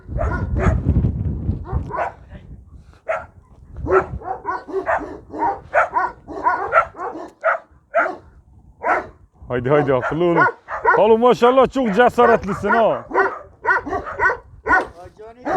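Dogs bark and yip in short bursts, some near and loud, while someone talks encouragingly over them.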